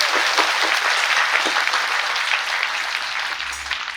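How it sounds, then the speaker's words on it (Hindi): A church congregation at the Ishgarh Grotto annual feast day celebration applauds in thanks to God, a steady, dense wash of many hands clapping together, loud and continuous throughout. "तो आए हम जोरदार तालियां बजाकर ईश्वर को धन्यवाद दें।"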